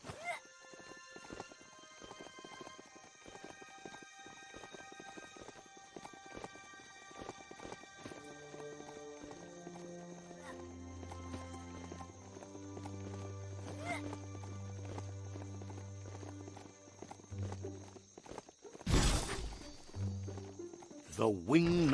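A mount is ridden in the Biomutant video game: steady galloping hoofbeats with a whinny, over a sustained musical score that swells toward the end, and a voice is heard over it.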